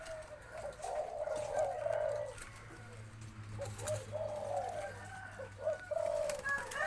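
Young spotted doves coo in soft repeated low phrases, close by, under a steady low background hum.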